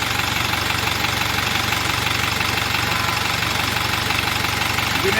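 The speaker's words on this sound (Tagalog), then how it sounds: "Umanda na po yung inuberhaw namin na 4HF1 Isuzu." A freshly overhauled Isuzu 4HF1 diesel engine runs at a steady idle, a continuous low rumble with an even knocking pulse, close and loud throughout with no voices.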